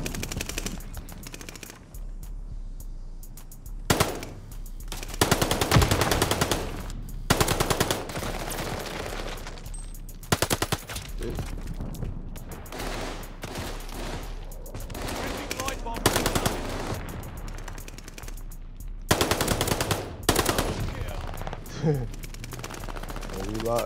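MP 40 submachine gun in Call of Duty: Vanguard rattling off repeated loud automatic bursts, separated by brief pauses and mixed with game sounds, while a player talks over the action.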